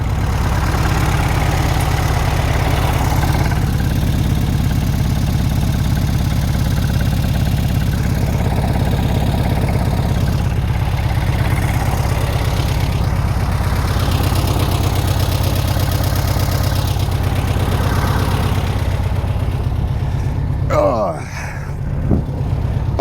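A 1969 VW Beetle engine idles at roughly 1050 RPM, a steady, close, continuous rumble with an even beat, briefly disturbed near the end.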